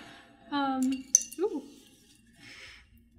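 Glass jars for soy candle making clink as they are handled: a couple of sharp bright ticks and small knocks in a quiet room, close and faint, with a voice talking briefly around them.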